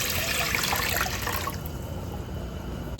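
Steady rushing of 2 cups of water pouring into a pot of rice over medium-high heat, loud and continuous, easing slightly toward a fuller, lower gurgle partway through.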